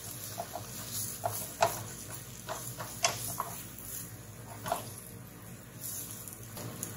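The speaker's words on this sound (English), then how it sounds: "add in your sliced onions and peppers. And stir fry for 1 minute." Sliced onions and peppers stir-fry in vegetable oil, giving a close, steady sizzle broken by irregular clicks and scrapes as the vegetables are tossed in the pan.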